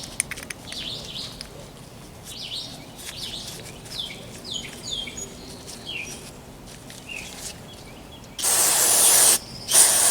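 Carb cleaner sprayed into the carburetor of a vintage Craftsman backpack blower: one loud, close hissing burst of about a second, then a shorter second spurt, after birds chirping faintly outdoors.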